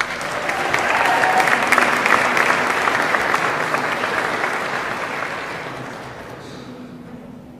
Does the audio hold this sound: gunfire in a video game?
no